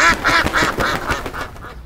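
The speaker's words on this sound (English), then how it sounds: "What about that duck?" A duck quacks loudly in a rapid run of about six calls that fade toward the end.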